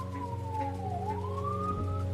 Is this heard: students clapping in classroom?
no